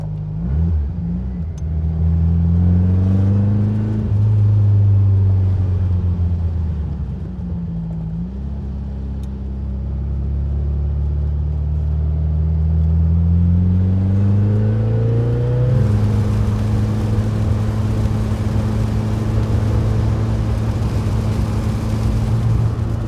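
A 1963 Volkswagen Karmann Ghia with its 1600 engine pulls hard while driving, the air-cooled motor rising in pitch through the gears, dropping at a shift and climbing again into a steady loud drone with no talking.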